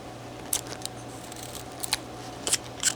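A carving tool cuts into a wooden figure carving, making a few sharp, brief snicking cuts spaced irregularly over quiet room hum, close and crisp.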